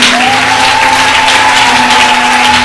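A church congregation applauds steadily, dense close clapping filling the space at high volume, with a sustained tone running beneath it.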